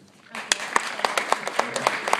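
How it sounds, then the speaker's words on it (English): Youth in an audience clap in answer to a show-of-hands style poll about education, starting after a quiet moment and settling into a sparse, uneven run of individual claps, moderately near, with murmuring voices underneath. "please clap if education is important to you"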